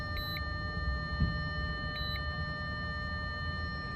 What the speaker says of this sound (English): I hate that buzzer.